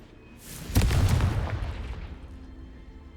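A Confringo spell blast in the Hogwarts Legacy video game blows up a pile of bones: one loud, deep boom with a sharp crack at the start, then a rumbling tail that slowly fades.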